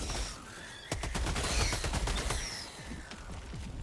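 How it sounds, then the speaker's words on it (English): Orbital barrage strike in a video game, with a series of sharp explosive impacts rattling in quick succession over a whistling ambient bed, followed by fading rumbles. "Orbital barrage incoming. Stand clear."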